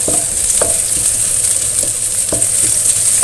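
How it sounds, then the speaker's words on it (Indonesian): Garlic and spices sizzle steadily in oil as they are stirred in a pan, with occasional scraping clicks from a utensil; no voices. "Tumis sampai bumbunya tercium aroma sedap."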